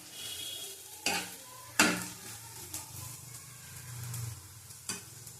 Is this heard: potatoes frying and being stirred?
yes